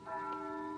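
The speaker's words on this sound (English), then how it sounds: "That's the bell at St. Boniface, isn't it?" A church bell rings at St. Boniface, one sustained, steady tone with ringing overtones that holds evenly and fairly loud without other sounds.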